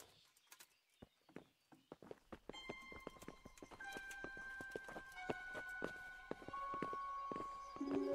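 Horses in the medieval game Kingdom Come: Deliverance clip-clop on the ground, a run of crisp hoofbeats that thickens into steady walking steps, with music swelling underneath.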